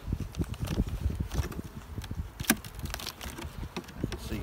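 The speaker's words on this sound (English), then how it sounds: "Two to three frames of bees." Honey bees buzz low and steady among hive frames in a small colony, with faint rustling and crawling sounds close by and no talk.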